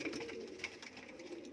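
A red-eyed pigeon, one of several offered for sale in India, gives soft, low cooing. The sound is faint and close by, with no talking.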